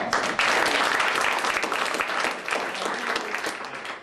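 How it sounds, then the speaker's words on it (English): Dense applause from an audience at a magic show lecture fills the room, a steady wash of many hands clapping at full volume that tapers slightly toward the end. "Give a round of applause."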